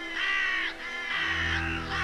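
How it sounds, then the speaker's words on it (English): Hooded crows and magpies call in a Danube floodplain forest, squabbling over stranded fish: harsh, raspy caws in three drawn-out bursts, close and loud, with a low rumble underneath. "Hooded crows and magpies want their share of the bounty."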